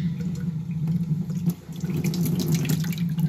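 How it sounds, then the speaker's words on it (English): Tap water running steadily into a sink as a tortoise egg is rinsed under it, a close, loud, even rush with a brief dip where hands shift the flow, no voices. "Now I'm gonna do something I barely ever do, and that's wash the egg because I don't want this blood going bad in there."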